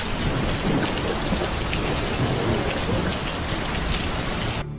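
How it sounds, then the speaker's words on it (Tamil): Heavy rain pours steadily with thunder rumbling beneath it, a dense, continuous dramatised storm effect set outside a village farmhouse, loud and unbroken throughout with no voices. "வெளியே ஜோன்னு மழை."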